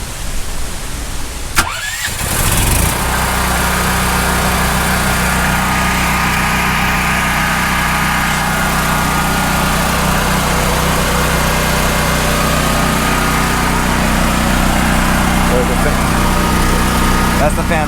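A Costco Firman 7571 portable generator cranks over, then its engine catches and settles into a loud, steady running drone with a cooling fan pushing air, continuous and close up after a brief start.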